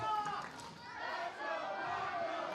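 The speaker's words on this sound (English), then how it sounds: "The audience, the crowd, the fans here at Cypress High School chanting, "Let's go Paco," showing their support." Fans at a Cypress High School wrestling show chant together in a loud, rhythmic crowd roar that fills the space steadily, with some shouting mixed in.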